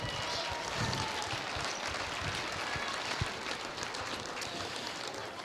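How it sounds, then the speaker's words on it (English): A school gym crowd applauds donors at a North Dakota Division B girls basketball district game, the steady clapping wash faint and distant, filling the space evenly for several seconds. "What a round of applause for all of those great folks"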